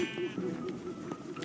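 Sheep bleating in the video game Minecraft Dungeons: a short, wavering bleat near the start rises over a steady murmur of game ambience and scattered soft clicks.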